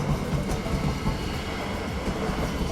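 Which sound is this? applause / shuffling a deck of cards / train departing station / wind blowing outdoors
train departing station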